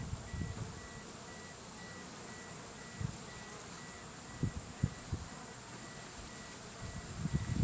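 Japanese honeybees buzz at their hive in a steady, high drone close by, with a few soft knocks and rustles scattered through.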